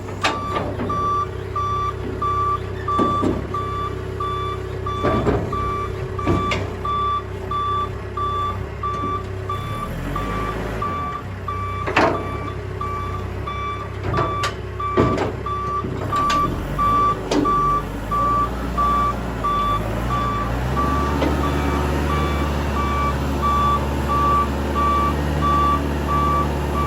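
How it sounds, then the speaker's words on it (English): A truck reverses with steady, repeating backup beeps sounding at regular intervals throughout, over a low engine rumble and occasional clanks, with no voices. "Pulling the truck back down,"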